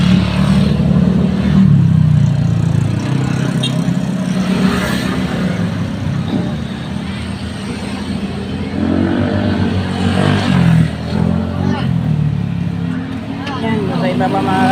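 Motorcycle engine running steadily while riding slowly in a long queue of motorcycles, a continuous low rumble with traffic noise around and occasional speech over it.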